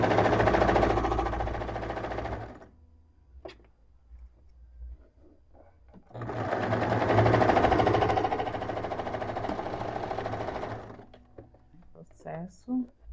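A sewing machine closes the shoulder seam of a viscose beach cover-up in two long bursts of steady stitching, with quieter gaps in between where a person talks.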